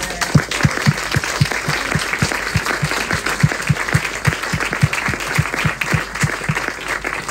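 Loud, sustained clapping comes from an audience honouring a speaker at a talk, with one nearby pair of hands beating a distinct regular rhythm over the broader crowd applause.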